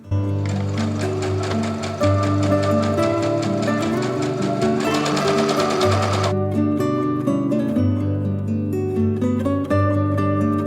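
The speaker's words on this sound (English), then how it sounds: "I'm going to stitch up those sides" A sewing machine stitching the side seams of a tote bag, its needle chattering in a fast, even mechanical rhythm that runs unbroken and close throughout.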